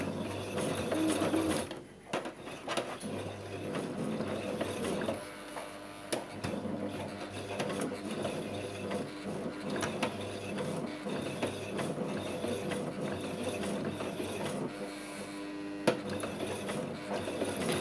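A sewing machine stitches a zippered side pocket with a continuous mechanical whirr and rattle, pausing briefly near the start and then running steadily close by.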